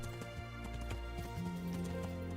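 Horse hoofbeats thud at a slower, uneven pace in Kingdom Come: Deliverance, partly masked by sustained tonal game music and ambience.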